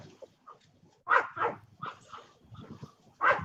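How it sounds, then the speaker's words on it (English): A dog barks in a home during a casual coffee-time chat, giving several separate woofs and yips at uneven intervals, moderately close and clear, with no talk over them. "Mine keep looking around trying to figure out where the dog's at that's barking"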